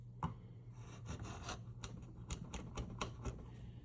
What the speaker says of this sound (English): the sound of it cutting against the grain